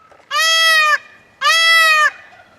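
Two loud, drawn-out bleating calls from bottle-fed calves at feeding time, each about two-thirds of a second and strongly harmonic, separated by a short pause and heard up close with no talking.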